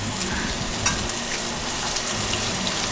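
Vegan steak frying in a pan alongside mushrooms, a steady close sizzle and crackle running throughout with a sharp pop or spatter near the start, no voices over it.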